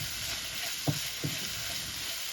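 Steady broadband sizzle of mustard seeds and fenugreek frying in hot oil, with two soft pops or stirs standing out briefly; no voices.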